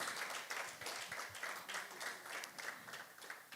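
An audience applauds at a Nigerian women in oil and gas event. Dense, continuous clapping sounds soft and somewhat distant, with a faint roomy wash and no speech.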